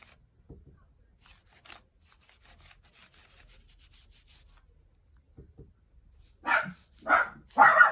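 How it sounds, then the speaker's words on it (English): A dog barking indoors at people talking loudly outside, three loud sharp barks close together near the end after quiet rubbing and shuffling. "He heard some people outside talking a little bit too loudly, and he had to bark about it."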